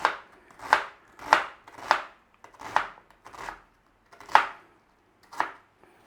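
An onion chopped on a cutting board with a knife for a tuna quiche, about nine crisp, evenly spaced chops close up, quiet and alone without talk.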